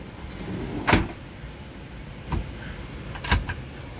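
Drawers and cupboard doors in a Bailey Autograph 79-4T caravan kitchen open and shut, giving three distinct knocking thuds at spaced intervals over a quiet background with no talk.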